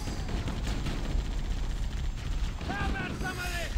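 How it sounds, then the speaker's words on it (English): A grenade blast in Halo: Combat Evolved, a dense rumbling boom that fills the clip under continuous game noise, followed by swooping electronic weapon effects near the end. "He just threw a grenade at me."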